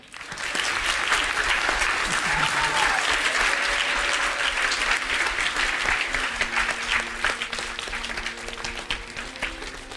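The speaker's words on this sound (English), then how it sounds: "Let's have another round of applause for Stuart Sender." Sustained applause from a large audience at a special gathering honouring a speaker, dense continuous clapping throughout, with faint voices and tones beneath and tapering slightly at the end.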